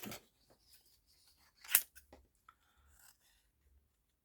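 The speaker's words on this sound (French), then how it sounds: "Voilà, ma paire de ciseaux." A pair of scissors cuts embossed craft paper close up, with a few soft snips and one sharp louder cut partway through, then scattered light handling noises.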